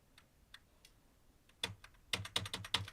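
Typing on a computer keyboard that is not working properly: faint scattered key taps at first, then a quicker, louder cluster of close clicks, with no talk.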